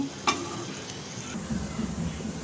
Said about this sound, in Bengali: এরপর আমি শুকনো মরিচ আর রসুনটাও মুচমুচ করে ভেজে নিচ্ছি